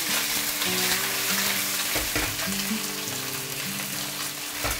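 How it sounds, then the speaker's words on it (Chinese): Fish sizzles steadily in hot oil in a seasoned pan, skin side set and turned until golden, a continuous crackling fry with soft stirring knocks and no voices. "就这个鱼煎到这种金黄之后，我们给它倒出来"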